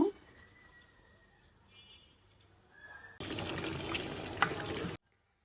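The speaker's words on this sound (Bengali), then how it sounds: "এই যে মাংস কষানো হচ্ছে আর একটু ভালোভাবে নাড়াচাড়া করে তারপর আবার ঢেকে দেব" Beef being stir-cooked and stirred in a pot: a quiet stretch gives way to about two seconds of loud, steady sizzling and scraping close by, which then cuts off abruptly.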